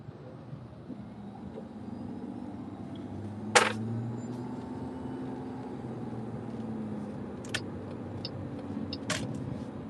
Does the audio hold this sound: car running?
yes